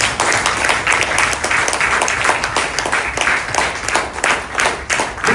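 Steady clapping from an audience at a Telugu gathering, many hands beating continuously at a moderate distance with no voices over it.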